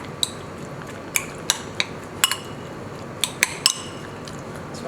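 A metal utensil mixes chicken with ginger and garlic marinade in a bowl, producing sharp, scattered clinks against the dish over a soft wet background, with no talking.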